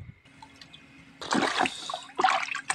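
Water splashes loudly as someone dives under, two churning bursts close by after a brief quieter moment.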